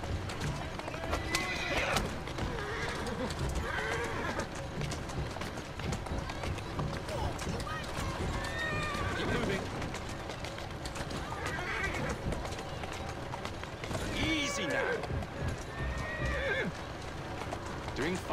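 A horse neighs several times over galloping clip-clop hoofbeats in Assassin's Creed Syndicate, with voices and busy game background sound throughout.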